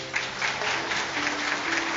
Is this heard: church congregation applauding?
yes